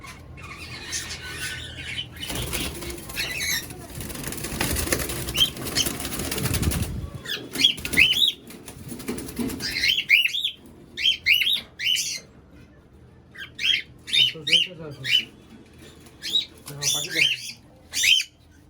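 A pair of cockatiels being caught by hand in gloves, with bursts of wing flapping and scuffling early on, then loud repeated squawks and shrill screeches in uneven clusters, close to the microphone.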